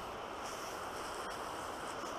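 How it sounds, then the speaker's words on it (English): Steady broadband rushing of flowing water, like a distant river or surf, continuous and fairly quiet with a windy hiss. "I hear the water finally."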